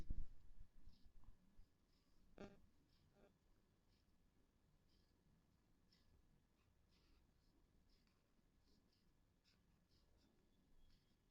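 Chalk or pen scratches faintly in short intermittent strokes while an example is written out by hand, quiet and close, with soft breathing and occasional louder taps.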